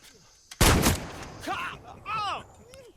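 A single sharp, loud gunshot rings out in a Far Cry 6 video game cutscene, followed by a few moments of quieter movement sounds and faint voices.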